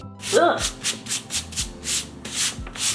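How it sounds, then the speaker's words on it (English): Hand sanding with 120 grit sandpaper on a plastic kids' tool set being made into a cosplay prop: a series of rhythmic rasping strokes, close and fairly loud, with a brief vocal grunt near the start. "for my second pass of sandpaper, I'll go with something a little higher, like 120 grit"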